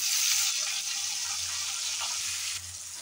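Fenugreek seeds, garlic and tomato frying in hot oil in a pan, a loud, close, continuous hiss and sizzle that drops slightly near the end, with no voices.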